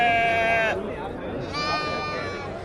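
Sheep bleat at a Saturday livestock bazaar in Navoiy, with two clear, wavering calls close by over a noisy market background.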